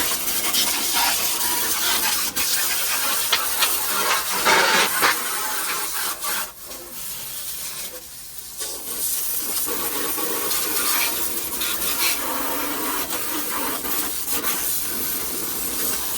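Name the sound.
spraying water to wash a car engine bay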